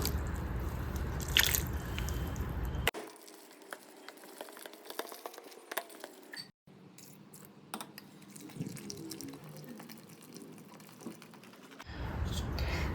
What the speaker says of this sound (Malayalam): ഇനി നമുക്ക് ഇതിലേക്ക് കുറച്ചീശ് വെള്ളം ഒഴിച്ച് കൊടുക്കാം.